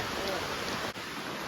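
Steady rain pours at Thattekkad bird sanctuary in an Ernakulam forest, a dense close hiss of falling drops heard beside a river.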